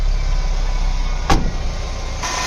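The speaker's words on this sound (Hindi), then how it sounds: "देखिए फ्रेंड गाड़ी जो है रेस लेने लगी है" A Mahindra BS6 CNG pickup engine runs at close range, a loud continuous drone with one sharp click near the middle and no voices.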